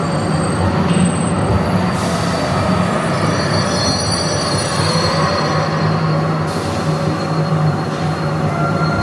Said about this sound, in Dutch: Zie je die trein?